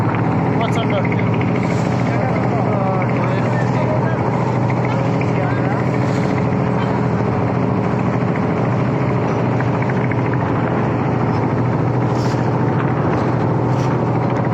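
A trawler's engine drones loudly and steadily on the Meghna River in rough waves, a constant close rumble with wind and water noise that runs unbroken throughout.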